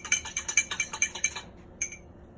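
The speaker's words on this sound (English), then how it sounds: "Grab my magical stirring fork." A fork stirs an orange blossom mead mixture in a container, rapid rhythmic metallic clinks about ten in a row, then a pause and one last clink.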